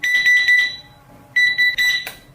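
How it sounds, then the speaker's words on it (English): A digital alarm clock with a USB charging port sounds rapid bursts of high electronic beeps, a quick run of pulses, a pause, then another faster run, loud and close. "The frequency of the beeps will gradually increase."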